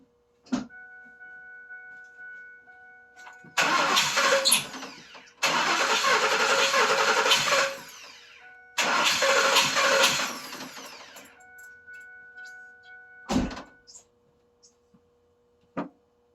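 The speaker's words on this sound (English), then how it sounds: "I'm going to crank this over, and we're going to see what type of waveform we have" Car engine cranking over on the starter during a relative compression test, three loud bursts of several seconds each separated by short pauses, with a couple of brief clicks and a faint steady tone in between.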